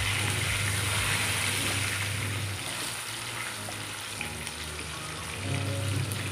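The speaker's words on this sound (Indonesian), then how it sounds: "di sini tuh ikannya aku goreng sebentar aja" Fish fries briefly in hot oil with a steady, dense sizzle and crackle, close and continuous, with a low hum underneath.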